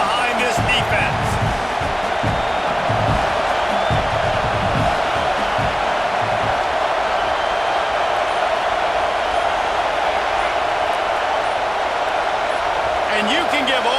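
A stadium crowd in the College Football 26 video game roars continuously and loudly through a big third down, a dense wall of cheering with faint thumps early on.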